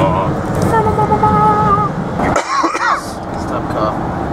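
A single cough rises over people talking, with traffic rumbling steadily in the background.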